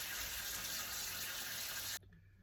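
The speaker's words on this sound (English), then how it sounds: "fill the sink with water" A kitchen sink being filled with water from the tap to soak onions for pickling: a steady, loud gushing hiss that runs unbroken and then cuts off abruptly near the end.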